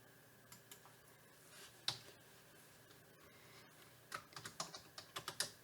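Typing on a computer keyboard while entering Excel cell data, quiet scattered key clicks at first, then a faint close run of taps near the end.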